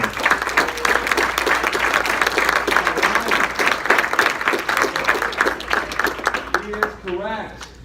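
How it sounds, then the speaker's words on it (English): An audience claps steadily as a round of applause at a sales training event, loud and sustained, with a voice beginning to speak as the clapping fades near the end. "let's give a big round of applause for Mr."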